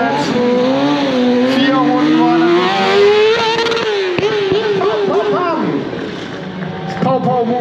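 A 2004 Kawasaki 636 sport motorcycle engine revs loudly at close range during a stunt show, its pitch sweeping up and down through repeated throttle blips, with voices heard alongside.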